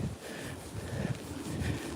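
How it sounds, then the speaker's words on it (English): Steady wind buffets the microphone with a continuous low rumble and roar, loud and unbroken throughout. "it's really windy"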